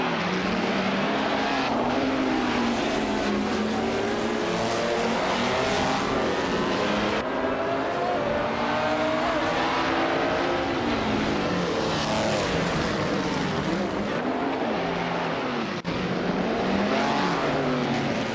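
A 1956 Lancia D50i races in a racing video game with a loud, continuous engine roar that climbs and drops through gear changes, with several cars howling together close by and no voices.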